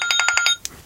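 A kitchen timer alarm for leftovers in the oven beeps in a quick, evenly spaced series of about six bright, loud pulses, then falls quiet apart from a brief faint chirp.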